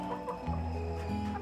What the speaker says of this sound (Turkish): Bu da Tokat tavuğumuz arkadaşlar.